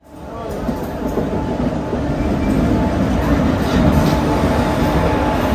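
A train runs along a railway track with a loud, steady rumble and rattle that swells slightly and holds throughout, with no talk.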